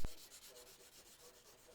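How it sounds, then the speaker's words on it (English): Sandpaper rubs a handmade straight razor blade in short, even strokes after a sharp initial scrape, a soft rhythmic rasp that repeats quietly and close with no talk. "I sand the blade using progressively finer sanding paper."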